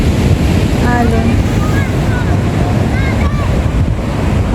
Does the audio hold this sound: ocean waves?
yes